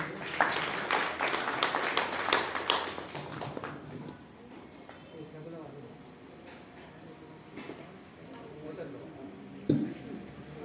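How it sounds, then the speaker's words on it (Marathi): Enthusiastic audience applause at a devotional hymn (stotra) singing program, dense clapping for the first few seconds, then thinning to a murmur with scattered claps and a brief thump near the end. "जोरदार टाळ्या."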